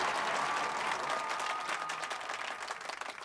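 A crowd applauds at an election rally, dense steady clapping filling the whole stretch, loud at first and thinning slightly toward the end, with no one speaking over it.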